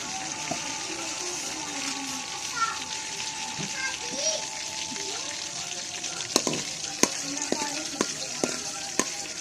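Ghee heating in a pan on a stove gives a continuous, fairly loud sizzle and crackle, with sharp metallic taps and clinks near the end and faint voices in the background.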